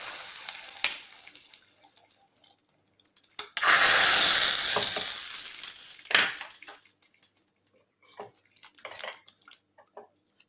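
Spices for tempering sizzle into a Kerala-style potato masala curry, a sharp burst of loud frying hiss that fades, followed by scattered faint clinks and stirring.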